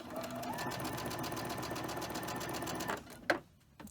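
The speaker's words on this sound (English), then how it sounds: "I'm going to chain stitch them" A sewing machine chain-stitches quilt blocks in a steady, fast continuous whir close by, stopping near the end with a brief clack before quiet.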